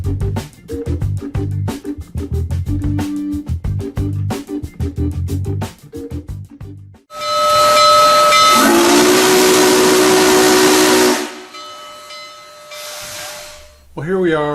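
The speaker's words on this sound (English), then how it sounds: "Union Pacific 844 sound like with sound? Custom installed by Soundtraxx?" A Kato HO-scale Union Pacific 844 steam locomotive model with a custom Soundtraxx decoder gives rhythmic chuffing and clanking, then a loud sustained steam whistle blast with hissing steam, fading to a quieter tone at the end.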